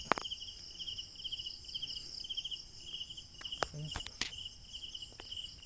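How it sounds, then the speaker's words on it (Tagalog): Steady, pulsing cricket chirps trill continuously at a moderate distance in the rural Philippine countryside, with a couple of faint knocks and rustles in the quiet night air. "Ang tahimik sa probinsya, puro kuliglig."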